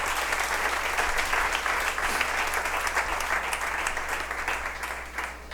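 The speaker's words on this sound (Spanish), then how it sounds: "Fuerte ese aplauso para nuestro Señor." A church congregation claps loudly and steadily in a sustained round of applause that fades slightly at the end.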